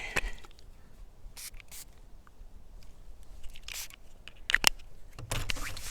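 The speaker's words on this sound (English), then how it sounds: "My moon water spray." Several short, quick sprays of moon water from a pump bottle, crisp hissing bursts spaced irregularly in a quiet room.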